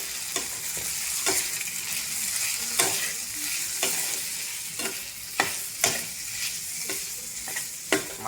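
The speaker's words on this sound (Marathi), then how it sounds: "मसाले टाकल्यावर 1-2 मिनटं परतून घेतला आहे" Spices including red chilli powder and coriander powder sautéed in a pan for tomato chutney, a steady close sizzle broken by repeated sharp scraping strokes of a spoon stirring at irregular intervals, with no talking.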